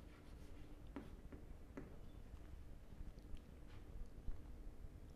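A pen writes a geometry proof on paper, producing soft, faint scratching strokes with a few sharper taps, alone without any talk.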